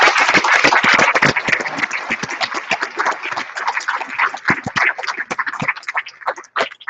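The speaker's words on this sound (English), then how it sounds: "Let's give them a round of applause" A school district governing board meeting audience applauds a school named an A+ School of Excellence, with dense, lively clapping that starts strong and gradually thins out toward the end.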